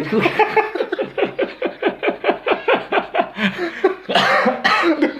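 One person laughs in a rapid, rhythmic run of short bursts, then lets out a harsher cough-like burst near the end, all close and fairly loud with no speech.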